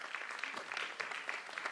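A theatre audience gives a brief, faint round of clapping to honour Madam Bhavna Garg at a stage event, soft and somewhat distant, with no voices.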